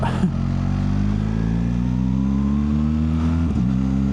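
A BMW R1300 GSA motorcycle engine runs steadily on a snowy winter road in Germany's Black Forest, a loud continuous drone with a brief rev bump near the end, heard alone without talk.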